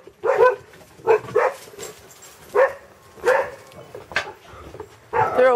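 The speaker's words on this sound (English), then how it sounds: "they're always barking" Several dogs bark in short, separate bursts spread across the moment, each loud and close, with brief yips and whimpers between and quiet gaps in the background.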